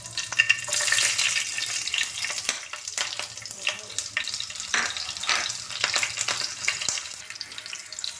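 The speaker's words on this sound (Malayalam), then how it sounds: "അതിൽ കുറച്ച് വെളിച്ചെണ്ണ ഒഴിച്ച് വെച്ചിട്ടുണ്ട്. ഇനി അതിലേക്ക് പച്ചമുളക് ഇട്ട് കൊടുക്കാം." Green chillies fry in hot coconut oil in a pan, giving a steady, lively sizzle with crackling pops and occasional stirring, close and continuous for several seconds.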